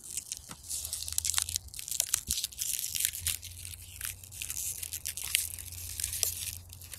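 Plastic wrapping around a 3D printer filament spool is cut and torn open close by, giving a steady run of crinkling, crunching and tearing noises with no voices.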